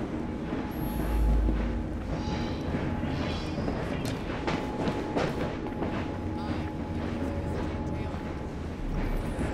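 A steam-era train in Assassin's Creed Syndicate rumbles steadily with low mechanical clatter and hissing, a continuous dense roar filling the scene, with faint voices underneath.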